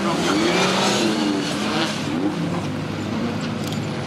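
Rally car launching hard off the line at a Race Retro demonstration, a loud engine roar with rising revs and possible tyre squeal, sustained and close throughout.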